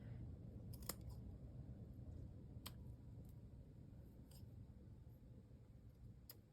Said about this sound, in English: So there's a certain way you snip so you don't make it